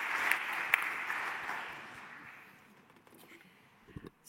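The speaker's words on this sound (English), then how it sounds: "Let's give a round of applause" Audience applause following a conference talk, a broad wash of clapping that starts fairly loud and gradually fades over a few seconds, with a couple of brief louder claps near the end.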